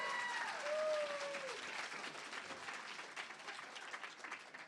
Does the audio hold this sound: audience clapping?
yes